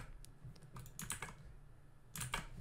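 Light typing on a computer keyboard, a soft scatter of quick key clicks in small clusters, close and quiet with no voices.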